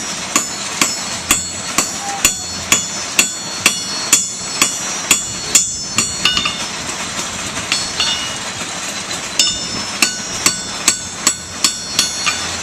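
Rhythmic ringing blacksmith hammer blows on metal at a fair demonstration, a steady series of sharp clangs about twice a second, close and loud, with no talking.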